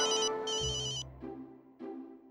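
A phone ringtone plays in a home setting, a bright repeating electronic melody in loud bursts with short gaps, close and clear, with no talking over it.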